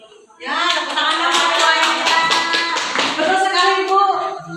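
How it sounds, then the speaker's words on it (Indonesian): Steady, energetic clapping from a classroom or school-workshop audience in Indonesia, tightly rhythmic and close, lasting about four seconds with a few voices mixed in. "Ya, tepuk tangan"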